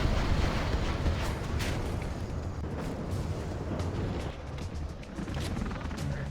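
A nuke cannon firing at a rocket buggy in a strategy video game battle, with continuous heavy rumbling blasts and crashing booms rolling together without pause at a loud, dense level.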